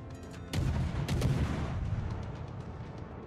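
Naval guns fire in World of Warships, a heavy booming salvo followed by rolling rumble and a few distant cracks, loud and close, with no voices.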